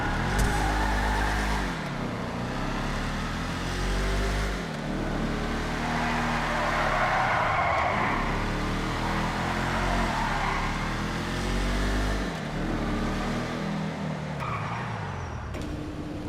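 A car, the Importe Vita Jukes, driven on a test ride in a video game: its engine drones and revs up and down in waves for the whole stretch, with tyre skids mixed in.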